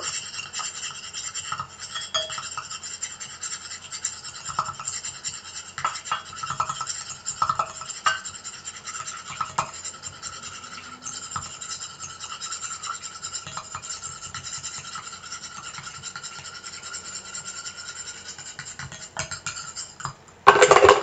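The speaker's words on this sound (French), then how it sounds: "Je rajoute mon eau petit à petit en mélangeant bien" A mixture stirred briskly while water is added little by little, giving a continuous soft scraping and rubbing rhythm with small clicks, fairly faint and steady, ending in a louder burst.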